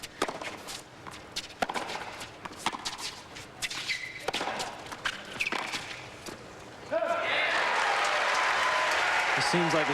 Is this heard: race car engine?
no